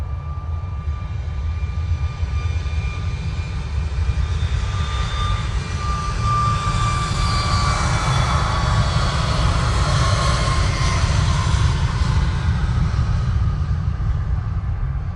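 A TUI airliner takes off at Manchester Airport, its jet engines a loud, continuous roar that swells and broadens over about fifteen seconds before easing slightly, with no voices over it.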